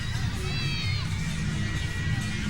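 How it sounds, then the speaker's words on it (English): A speedway crowd at a summer meeting in Vojens, Denmark, a dense, steady roar of cheering and shouting from many people, sustained and fairly loud with a few higher voices rising above. "A pretty good crowd has turned up"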